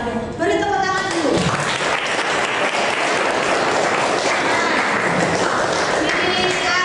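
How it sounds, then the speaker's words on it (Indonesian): Classroom applause from students clapping together for a classmate, a dense steady patter filling the clip after a brief opening, close and fairly loud with faint voices mixed in. "Beri tepuk tangan dulu"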